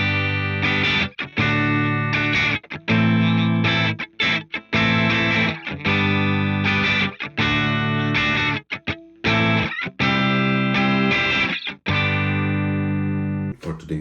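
A Squier Classic Vibe '60s Telecaster on the bridge pickup plays distorted chords that ring out loud and full, strummed in choppy bursts with brief gaps, sustaining a heavy, buzzing overdrive tone.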